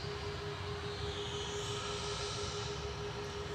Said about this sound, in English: Next arrival is EasyJet coming back in from Isle of Man